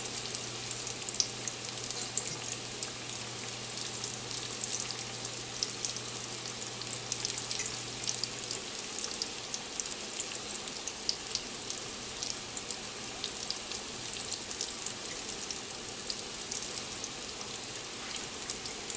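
Cod fish cakes fry in a pan with a steady, dense sizzle and crackle that holds at an even, moderate level throughout, with no voices over it.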